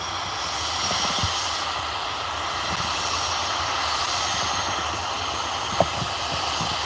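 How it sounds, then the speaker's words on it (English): A silver and black Embraer Praetor business jet at Liverpool Airport gives off a steady, fairly loud engine whine and roar that holds constant throughout, with a single sharp click near the end. "Take in this beautiful, stunning Embraer Praetor in a nice silver and black"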